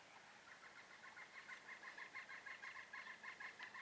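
A chicken or similar fowl calls repeatedly in quick clucking bursts, fairly faint and slightly distant, with a soft background hiss and no talking.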